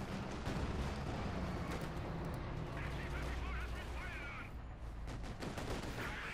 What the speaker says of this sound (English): He got the heavy machine gun firing at the rear of the T-34